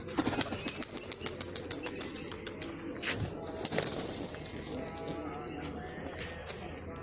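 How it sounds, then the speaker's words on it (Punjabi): Bursts of flapping wings from several pigeons being released, rapid and close at first, then scattering amid outdoor ambience with a faint coo-like murmur. "ਲੋ ਜੀ ਕੱਢਦੇ ਆ ਕੂਤਰਾਂ ਨੂੰ"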